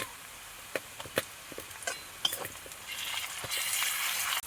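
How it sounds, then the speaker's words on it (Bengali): Ginger garlic paste frying in hot oil in a pan as a mussel masala cooks, with a steady soft sizzle that swells louder toward the end, broken by scattered stirring clicks and scrapes. "এবার আমি আদা রসুনের পেস্ট দিয়ে দেবো।"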